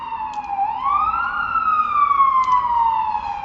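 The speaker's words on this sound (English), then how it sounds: "Sorry about the siren in the background." An emergency vehicle siren wails steadily in Toronto, rising and falling in pitch, fairly loud and close through open doors, with a faint background hum and no talking.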